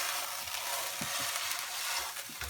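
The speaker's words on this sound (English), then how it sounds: "you get your joint beef and you seal it off in a hot pan on all sides" Beef joint being sealed on all sides in a hot pan on a stove, giving a steady close sizzle and crackle with a few soft low knocks from the pan, no talk.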